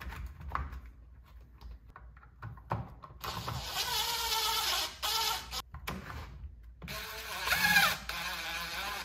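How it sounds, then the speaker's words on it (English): Cordless impact driver running in short bursts to drive the shroud screws back into a Stihl Pro string trimmer, with two longer whirring, rattling runs after a few brief taps, close and fairly loud. "So I use the impact just to save my wrists and time."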